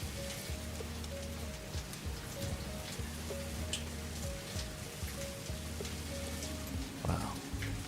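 Steady rain pours in the game Satisfactory, a continuous hiss of drops on surfaces beside a low droning machine hum from the factory, with a brief voice near the end.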